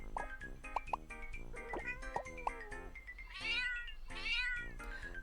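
Cartoon cats meowing in the mobile puzzle game Block Cat Jam, a quick series of short, bright game meows followed by two longer drawn-out mews over light background game music.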